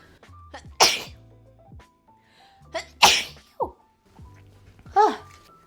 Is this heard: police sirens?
no